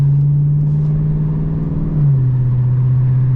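A Chrysler 300 cruises along with a steady, loud engine drone that holds an even pitch, dipping slightly lower about two seconds in and then carrying on smoothly, with no talking.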